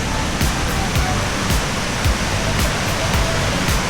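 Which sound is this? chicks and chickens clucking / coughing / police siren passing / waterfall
waterfall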